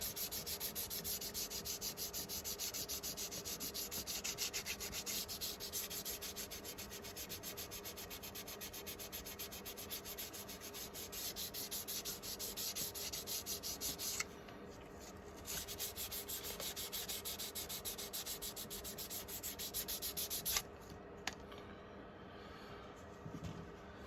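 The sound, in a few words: sanding model car body with 600 grit sandpaper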